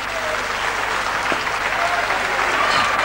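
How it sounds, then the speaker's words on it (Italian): Applause from a theatre revue audience, a dense, steady wash of many hands clapping at once, loud and sustained, with faint voices mixed in. "Un applauso ragazzi"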